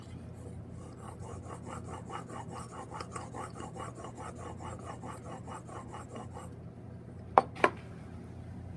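A steel chisel rasps back and forth on a sharpening stone as a micro bevel is ground, a steady run of short rhythmic strokes, close and moderately loud, followed by two sharp knocks near the end.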